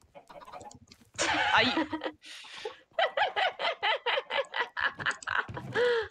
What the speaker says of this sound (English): I'm literally just giving this baby chicken a stack of seeds.